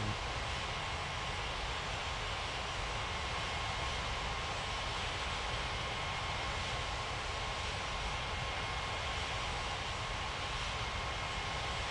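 Steady broadband roar of an airliner on landing approach to runway 27 in the Unmatched Air Traffic Control game, a continuous engine drone with a faint high whine, holding level throughout with no talk.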